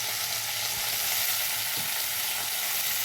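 Spices cook in hot oil with salt and turmeric for a Bengali shukto, giving a steady, close hiss of frying with occasional soft scraping from stirring. No one talks.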